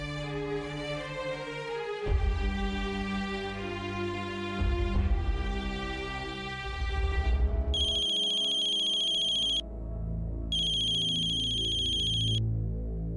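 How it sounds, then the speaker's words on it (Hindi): An electronic ringtone plays a repeating melodic pattern over background music, then bright high beeping tones pulse in two bursts near the end. "कल्पी का फोन"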